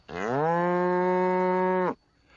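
A single cow moos once, a loud, sustained, tonal low about two seconds long that stops abruptly, with nothing else around it.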